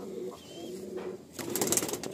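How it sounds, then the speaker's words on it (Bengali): Madrasi pigeons cooing in a loft, a soft low coo followed by rustling and a burst of brighter noise near the end, close by with no talking. "একটা মাদি পায়রা, ম্যাক্সিমাম মাদি পায়রাই আছে"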